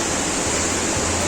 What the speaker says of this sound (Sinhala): මේ වතුර පාර යනවා.